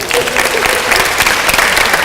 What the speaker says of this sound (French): Applaudissez ma mémoire quand même.